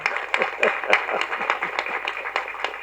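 An audience claps at a Tamil public speech, with sharp, fairly evenly spaced handclaps that sound thin and moderately distant, with no voices over them.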